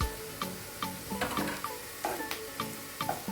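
A small amount of onion with a pinch of salt fries in oil in a pan, a spatula scraping and stirring in steady, repeated strokes over a low sizzle, close and alone.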